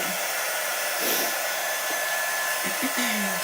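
A hair dryer blowing steadily at close range over a strawberry cake decoration, a constant loud whooshing hiss with slight shifts in pitch as it moves.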